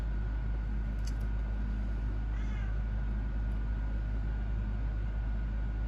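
A brief cat meow rises over a constant low engine hum, with a faint chirp earlier; otherwise steady droning background.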